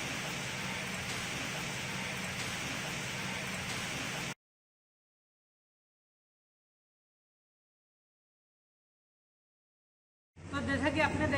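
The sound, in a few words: rain falling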